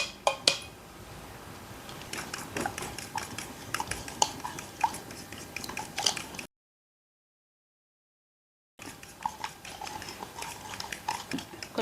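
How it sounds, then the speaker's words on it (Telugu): Onion, coriander and curry leaf paste is stirred in a bowl for egg bonda batter, with a spoon clinking and scraping in quick, uneven taps that break off into a short stretch of silence before resuming. "ఇది వేసి బాగా మిక్స్ చేసుకుందాం."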